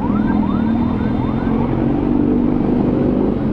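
Heavy night traffic in a jam on a South Jakarta street, heard from a motorbike, makes a steady, dense engine rumble up close, while a siren whoops in short rising bursts near the start.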